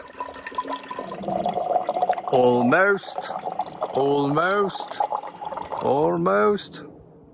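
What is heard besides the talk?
water pouring into a container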